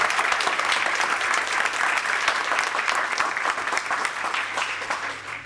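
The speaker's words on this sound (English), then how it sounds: "Then please big round of applause for Emanuel." Sustained audience applause at the close of a tech talk, a steady wash of many hands clapping that holds even and loud, tapering slightly at the end, with no talk over it.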